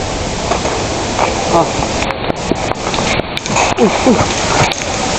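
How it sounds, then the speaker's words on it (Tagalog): Rain falls steadily outdoors during a milsim exercise in Tanay, Rizal, giving a constant broadband patter under nearby voices talking. "Umuulan."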